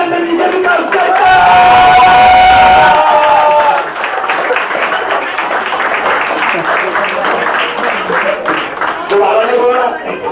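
Farewell gathering of a sociology class where a crowd claps and cheers loudly, with whoops and shouts over dense applause that stays steady throughout, and voices call out within the noise.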